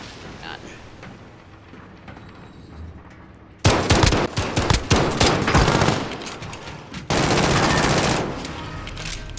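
Loud bursts of automatic gunfire break out in a Gun Fight video game match, with rapid rattling volleys and booms after a quieter start. A player can be heard talking underneath.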